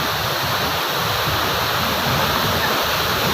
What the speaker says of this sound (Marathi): अतिशय फार सुंदर हा धबधबा आहे बघा पाणी किती उंचावून पडते